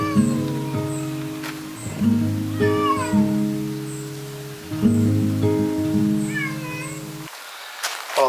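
Cats meow repeatedly from their outdoor run, several clear drawn-out calls spaced a second or two apart over a constant low mechanical drone, with a light patter in the background and a faint voice at the end.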